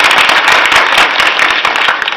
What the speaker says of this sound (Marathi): पखावज वादक, टाळकरी गायक आणि स्पीकरवाल्यासाठी तुम्ही टाळ्या वाजवा.